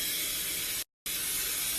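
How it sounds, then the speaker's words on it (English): A steady, loud hiss of olive oil cooking spray in two bursts, broken by a brief silent gap near the middle. "I'm gonna oil it with some regular olive oil spray"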